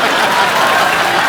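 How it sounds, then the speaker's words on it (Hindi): A studio audience at a comedy show claps steadily, a dense, loud burst of applause that fills the whole short moment without any voices. "ताली बजाओ"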